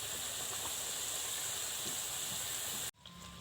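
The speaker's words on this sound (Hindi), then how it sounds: "तो इस तरह करके ये फ्राई कर लेने हैं।" Potatoes frying in hot oil give a steady, even hiss that fills the space, then the sound cuts off abruptly and quieter background noise remains; nobody speaks.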